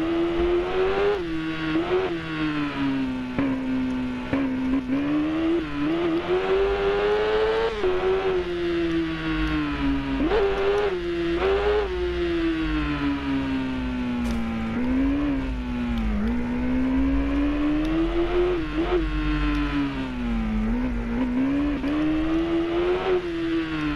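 A Kawasaki ZX10R superbike engine in a motorcycle racing game howls loudly and without a break, its pitch rising through the gears and dipping repeatedly on downshifts through a sequence of corners, with no talking.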